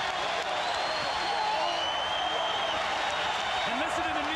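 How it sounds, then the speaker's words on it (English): New York Knicks home crowd at the 1999 NBA Finals cheering their team after losing the championship, a steady roar of arena noise beneath a commentator's voice. "listen to the New York crowd cheer their team"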